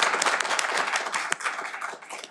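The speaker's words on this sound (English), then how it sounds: "We'll clap anyway." Audience clapping at a university commencement award announcement for the Stephen Sapuro Prize, a steady wash of applause from a crowd lasting a couple of seconds with no voices on top.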